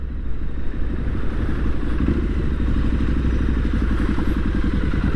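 A Triumph Street Scrambler 900 motorcycle rides along with a steady, loud engine drone and rhythmic low thrum, mixed with constant road and wind noise from onboard, no pauses.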